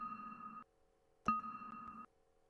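A synthesized tone passed through gated reverb plays in two sustained bursts that cut off abruptly, separated by a sharp click and leaving a faint lingering tail between them; quiet and isolated, no talking.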